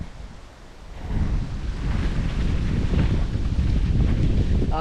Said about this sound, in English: I hate wind.